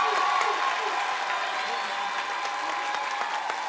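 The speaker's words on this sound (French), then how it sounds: "Applaudissements." Studio audience applause on a French television show as a live music act is introduced, a steady wash of clapping with a faint tonal hum underneath.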